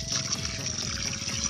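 Strong, steady rush of a waterfall at Larik Falls, a broad continuous roar of flowing water close by, with no clear talk over it.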